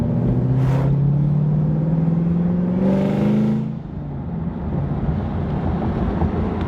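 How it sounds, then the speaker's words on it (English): A sports car engine, from a ZL1-versus-Hellcat comparison, revs in two rising, roaring bursts as pitch climbs steadily, then drops back to a loud, rough idle rumble, close and without talk. "There's no need to be revving."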